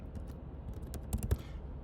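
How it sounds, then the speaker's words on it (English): Quick light keystrokes on a computer keyboard, a short cluster of soft clicks over a low background rumble, close but faint, ending with a slightly firmer tap. "That's all we're doing, is typing that and hitting enter."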